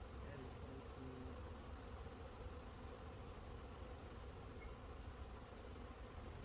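A honey bee swarm moving between swarm traps makes a faint, steady, even buzzing hum throughout, with no breaks and no talk.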